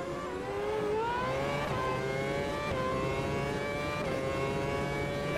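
A Formula 1 car's engine screams around Monaco in the video game Automobilista 2, a high, steady whine rising and dropping through gear changes as it accelerates, clear and continuous with no talk.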